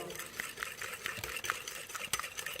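Mayonnaise being mixed with oil, a steady churning, whirring stir with small clinks of utensil against the bowl, fairly faint and continuous, with no talking.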